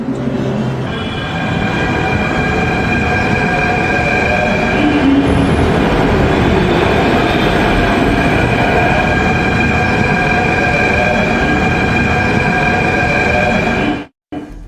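A Delhi Metro train near Connaught Place rumbles loudly and steadily, with whining wheel and motor tones and a constant roar close by, cutting off abruptly near the end.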